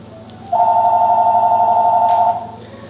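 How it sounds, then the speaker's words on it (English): A mobile phone rings with a steady electronic warble tone lasting about two seconds, loud and close over a quiet room hum, then cuts off. "That's my phone, gonna ignore that."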